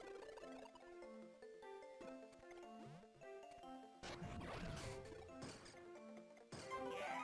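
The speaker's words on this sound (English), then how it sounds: "I love the sound of the globe smashing" A globe shatters in the Wario Land 4 video game, a loud crunching smash with glassy jingling over chiming game music, followed by a second crash burst near the end.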